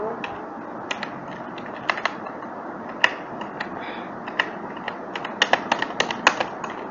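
Quick, irregular keystrokes on a computer keyboard as text is entered into an editor, with crisp clicks and taps clustering in bursts, close and steady over low room hiss.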